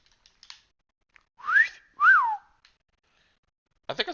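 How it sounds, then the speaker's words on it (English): Two rising-and-falling whistle calls from the Pizza Tower video game, one after the other, clear and alone, with faint clicks before and a burst of keyboard-like tapping after. "That whistle, the way it sounds reminds me of like,"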